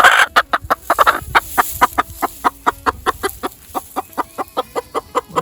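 Chickens in a hay barn cluck in a quick, regular series of short calls, close and clear, one bird repeating steadily with a few louder squawks at the start.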